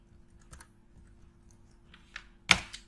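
Several quiet keystrokes tap on a computer keyboard, sparse and uneven, ending with one sharper, louder click.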